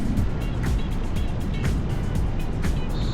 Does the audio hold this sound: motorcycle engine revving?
yes